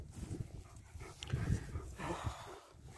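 Dogs snort and whimper close by outdoors in short, irregular bursts, with rustling and faint background noise.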